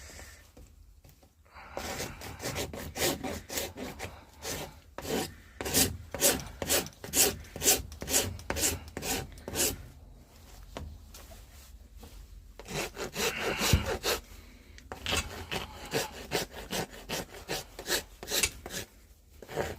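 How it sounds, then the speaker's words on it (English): A farrier's rasp scrapes back and forth over a horse hoof, steady rhythmic strokes close up in two long bursts separated by a short pause, with a brief spoken word at one point. "I'm just going to run the rasp over and smooth things off."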